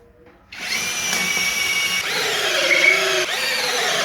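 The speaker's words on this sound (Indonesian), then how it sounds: "Ini pakai mata bornya 7 in ya, atau 7 mili. Dan ini menggunakan drilling langsung." Fuyaon cordless drill on high mode with a 7 mm bit drilling straight in: a sharp motor whine kicks in abruptly and holds steady and loud, with slight pitch dips as the bit bites.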